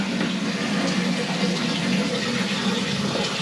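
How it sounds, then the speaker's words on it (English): Water runs steadily as a toilet cistern refills, a constant close hiss and trickle with no talking. "Let that fill up and we'll give it a test."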